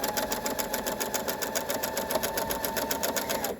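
A sewing machine stitches a cloth mask in a fast, even mechanical chatter of closely spaced needle strokes, near and steady for a few seconds without a break, with no talk.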